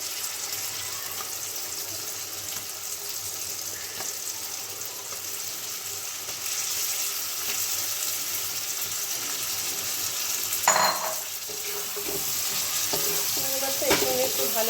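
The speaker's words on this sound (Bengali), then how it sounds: "এবার আমি ব্যান করা চিংড়ি মাছগুলো এর মধ্যে দিয়ে দেবো" Fried prawns drop into a masala simmering in oil, giving a steady, broad sizzle with clinks and stirring scrapes near the end and no talking.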